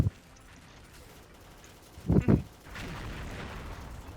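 Gunfire from the Qin gun in the shooting video game XSHOT: a brief double burst of shots stands out midway against a quiet, low background.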